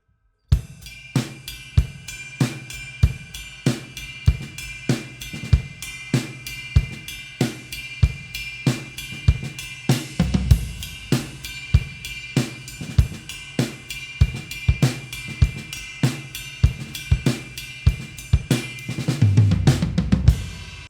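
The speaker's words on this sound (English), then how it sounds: "When you're going to add your hi-hat on every and, it will sound like this." A drum kit plays a steady ride pattern with hi-hat strokes on every offbeat "and", crisp evenly spaced hits with low kick thumps underneath, close and alone with no talking.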